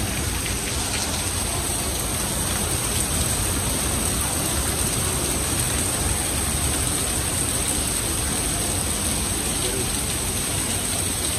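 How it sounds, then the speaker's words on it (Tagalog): Heavy rain pours down steadily on Boracay, a dense, loud hiss of drops pounding surfaces that never lets up. "Sobrang ulan."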